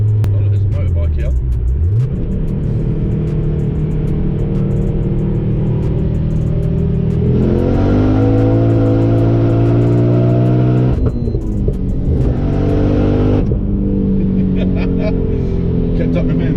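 A 500hp Ford Focus RS Mk2 engine roars loudly and revs up through several gear shifts, its pitch climbing, dropping and climbing again, with no talking over it.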